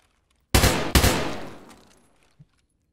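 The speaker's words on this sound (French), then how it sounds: "Je pense que c'est que des scavs qui nous ont tiré dessus en fait." Two sharp gunshot bursts from scavs in Escape from Tarkov on the Reserve map crack out close together, loud and near, each ringing into a long fading echo, followed by a faint small thump.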